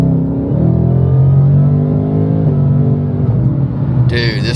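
Supercharged 5.0 engine of a Shelby Super Snake Mustang with a Whipple supercharger, heard from inside while driving: a loud, steady low rumble with rising and falling engine tones and a brief whine near the end.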